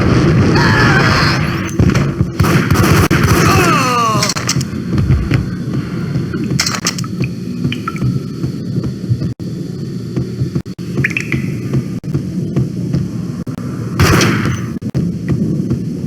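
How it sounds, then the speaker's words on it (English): Gunfire in the shooter game Max Payne, scattered loud shots and impacts over a constant humming game background, with a few sharp bursts standing out. "It's Payne! Gun him down!"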